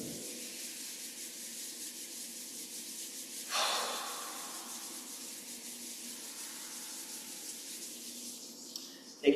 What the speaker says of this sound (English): Rubbing the palms together and breathing.